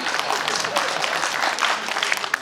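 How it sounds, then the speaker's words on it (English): Brief burst of audience applause at a speed-reading technique presentation, a dense patter of many hands clapping steadily throughout. "Please clap for him."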